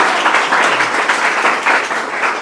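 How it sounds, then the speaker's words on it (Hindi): Students in a classroom clap together, a dense, loud and steady burst of applause lasting a couple of seconds without pause. "जितना ताली बज रहा है पूरे रात भर क्लास में बजते रहेगा।"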